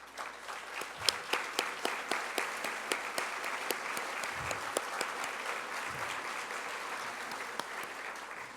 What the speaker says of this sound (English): let's give them an applause for putting this together